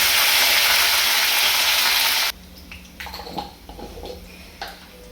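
Green chillies and curry leaves are dropped into hot oil for a tempering in a potato dish, a loud bright sizzle for two seconds that cuts off abruptly, followed by quieter crackles and clinks of a pan.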